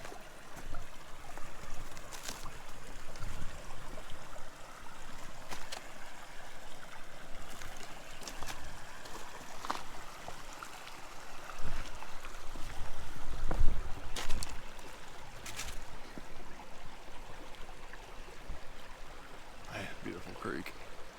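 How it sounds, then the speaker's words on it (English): Small forest creek running in winter, a soft continuous trickle and burble of flowing water, fairly faint, with occasional handling knocks and a brief louder splash midway. "Beautiful creek."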